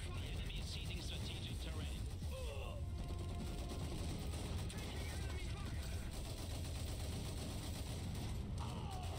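Dense battle noise from the Iron Harvest strategy game, with rattling gunfire and mechanical clanking layered into a constant loud din while a voice talks over it.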